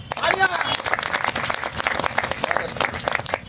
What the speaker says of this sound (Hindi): मैं चाहूँगा उस कोर कमेटी की पुनः जोरदार तालियां हो जाए।